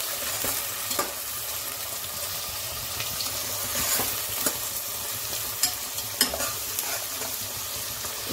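Onions sautéing in a pan for an ash gourd stew give a steady sizzle with scattered stirring scrapes and clicks, close and even throughout, with no talk.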